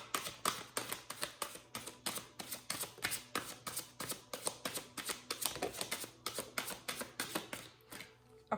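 Tarot cards are shuffled for a reading in rapid, evenly spaced riffling bursts, close and fairly quiet, repeating steadily for several seconds before stopping.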